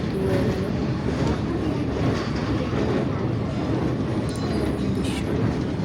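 A moving metro train rumbles with a steady, dense low roar heard from inside the carriage, constant and close throughout with no clear voices.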